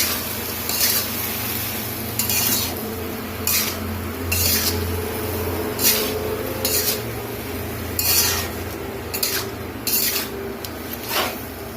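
Pointed gourd and potato bhaji frying in a pan with a little turmeric, a spatula scraping and stirring in repeated bursts of rasping strokes over a constant low sizzle, close and fairly loud.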